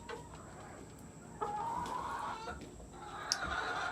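Backyard chickens clucking the day after a dog attack, several hens giving soft, scattered calls and a few louder squawks close by, with no voices.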